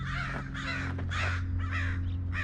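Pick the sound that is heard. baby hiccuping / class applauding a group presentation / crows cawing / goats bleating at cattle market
crows cawing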